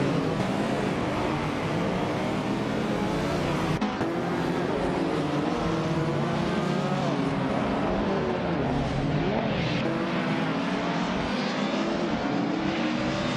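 Race cars roar in a racing video game, a Peugeot 205 Rally among them, with steady loud engine drone and shifting revs from several cars running close together throughout, no voices.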